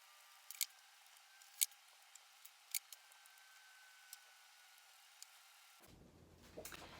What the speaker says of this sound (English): Now you need to take a pair of scissors and cut the rest of this off.